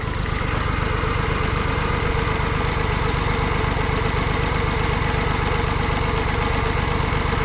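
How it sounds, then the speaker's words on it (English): John Deere 322 tractor engine running with a loud, steady chugging idle, its three cylinders pulsing in a rapid, slightly uneven beat, close and continuous without talk. "it doesn't sound like necessarily it's running on all 3 cylinders"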